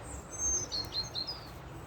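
A small robin sings outdoors in nature, a few thin, high chirping notes repeating in short phrases over a soft background hum, fairly faint and without talk.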